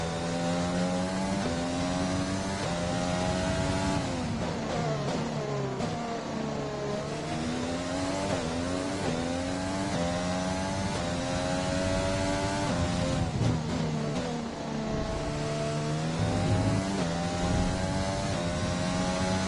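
Formula 1 engines scream at high revs in the F1 2020 game at the Spanish Grand Prix, with pitch sweeping up and down through gear changes and a continuous loud whine from nearby cars.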